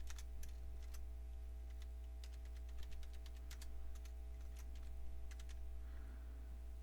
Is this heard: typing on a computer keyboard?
yes